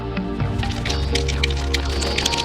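A homemade Diwali carbide gun holding a stone and water is shaken close by, giving a steady squishy, sloshing rattle that runs unbroken under a constant tonal hum.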